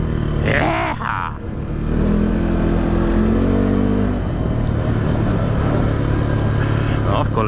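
A Kymco MXU 700 ATV engine drones and accelerates continuously during a lap, with a voice speaking briefly near the start over the loud, close engine.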